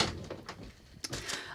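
A door is pushed shut with a soft sliding rub and then a sharp closing knock about a second in, heard close by without talk.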